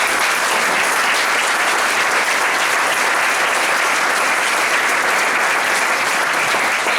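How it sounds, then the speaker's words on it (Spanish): Audience at an industrial engineering awards gala giving strong sustained applause, dense even clapping filling the hall from start to end, loud and close. "pido un fuerte aplauso para él"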